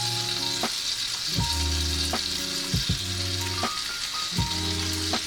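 Sautéed onions hit a hot frying pan for a Chateaubriand-style steak, sparking a steady bright sizzle with several close, sharp clatters and scrapes of the pan and utensil at regular intervals.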